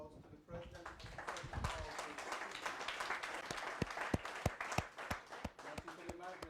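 An audience applauding the President at a development bank swearing-in ceremony, a sustained round of clapping that thins into scattered individual claps, with voices audible over it.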